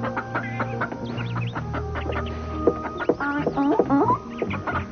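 Several Chinese chickens cluck and squawk close by, a busy mix of short calls and rising notes with no talking.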